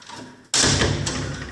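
A French window onto a terrace in a house swings with a sudden sharp knock followed by a fading rattle, close and fairly loud, with no talk.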